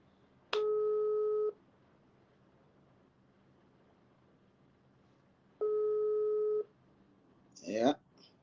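A telephone tone heard while placing a phone call: two steady one-second tones spaced about five seconds apart over faint line hiss, followed by a brief voice at the end.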